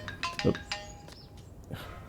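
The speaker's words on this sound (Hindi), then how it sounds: "अरे फोन भी आ गया।" A short electronic phone ringtone chimes a few tones in a quick melodic pattern, at moderate volume, with faint background noise.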